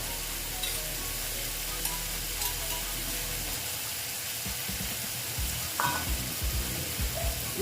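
Ground cashew paste fries in a pan with a steady close sizzle, joined by occasional stirring scrapes and clinks, without speech.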